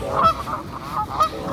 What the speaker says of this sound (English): This girl is scared of these geese. I'm scared too, low key. They just honking.